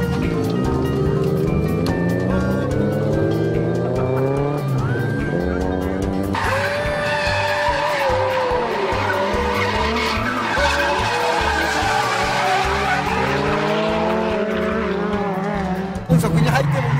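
Drifting car on a mountain pass, engine revving hard with continuous tire skidding and squeal throughout, loud and close, under spoken commentary.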